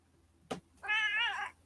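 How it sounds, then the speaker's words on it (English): A pet cat gives one long, clear meow up close after a brief soft thump, with a low steady hum in the background. "She's a good kitty."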